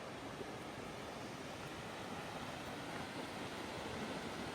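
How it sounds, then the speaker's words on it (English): A big waterfall's rushing water sounds as a steady, even roar of broadband noise, unbroken throughout and heard from some distance, faint in level but constant, with no talking. "first views of the big waterfall"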